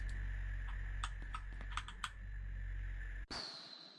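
Video game typing sound effect made with a human voice, rapid clicky keystroke-like ticks in a short burst, followed by a brief electronic tone at the end, no speech.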